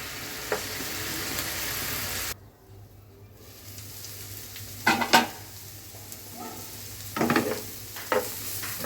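Onion greens and potato frying in a pan, a close, steady sizzle that briefly drops away, then returns with several sharp spatula scrapes and knocks against the pan, no talk.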